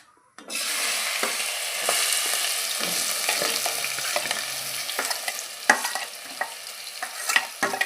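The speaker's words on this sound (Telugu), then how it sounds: "పచ్చిమిరపకాయలు ఉల్లిపాయలు వేసేసుకోండి" Green chillies and onions fry loudly in a pan, a close, steady crackling sizzle that starts abruptly and continues with occasional scraping stirs and no voices.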